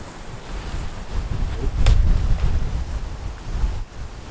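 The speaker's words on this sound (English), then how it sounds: "You see that wind taking it." Gusty wind buffets the microphone outdoors at a carp fishing lake in North Yorkshire. It rises and falls in loud rumbling surges over a few seconds.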